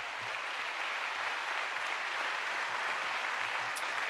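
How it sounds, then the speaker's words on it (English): Steady audience applause at a town hall event, a continuous even patter of many hands clapping at moderate distance, alone without talk. "Let's give them a round of applause."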